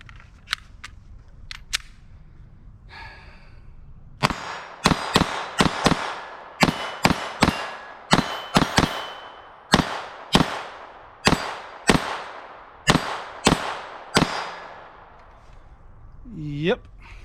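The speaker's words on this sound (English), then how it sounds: "These are the Winchester Wildcat." Sharp gunshots from a Glock 44 firing Winchester Wildcat .22LR rounds, about a dozen loud cracks in a steady string after a few faint clicks, with a voice briefly heard near the end.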